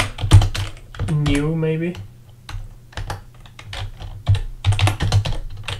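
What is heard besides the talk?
typing on a computer keyboard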